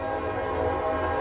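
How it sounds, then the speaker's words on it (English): A train passes on a railroad, filling the air with a loud, sustained rumble and layered horn-like tones that hold steady throughout and sound fairly close. "as you can hear, the train, the railroad."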